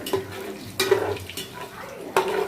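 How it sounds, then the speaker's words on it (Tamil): Cinnamon, cloves and cardamom fry lightly in oil for a biryani, with a soft sizzle under a few sharp spoon-and-pan scrapes and clinks at intervals. "பட்டை கிராம்புலாம் கொஞ்சமாக க வறுபடட்டும் எண்ணெயில்"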